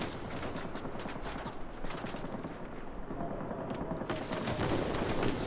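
Warplane guns firing in the video game World of Warplanes, a dense continuous rattling fusillade that stays steady and fairly loud throughout with no speech.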